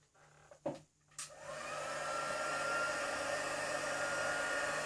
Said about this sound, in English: And then we'll heat set it. I'm going to do this away because it's a bit noisy.